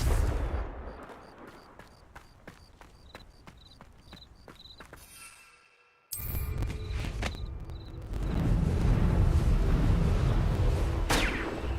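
A Confringo fire spell in the video game Hogwarts Legacy: a run of sharp ticks gives way to a brief hush, then a sudden fiery blast swelling into a loud, sustained rumbling roar.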